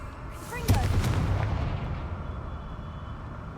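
Confringo fire-blast spell in Hogwarts Legacy erupting as a sudden loud explosive burst, then a long rumbling roar that slowly fades over a few seconds.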